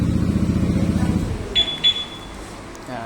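A Yamaha Aerox V2 scooter started by remote idles with a low, throbbing engine rumble that fades out, followed by two short high beeps from the remote alarm and a faint chirp, with a voice talking nearby.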